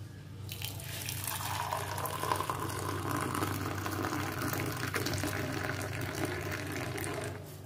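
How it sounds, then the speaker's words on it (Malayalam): Tea poured into cups in a home kitchen, a steady liquid stream running continuously for several seconds at close range with a constant low hum beneath, no talking. "അപ്പോൾ ചായ നമുക്ക് ഒഴിക്കുക"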